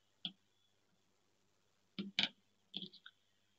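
Scissors trimming fabric strips for quilting, a few sharp snips and clicks in short bursts, close and quiet with silence between them.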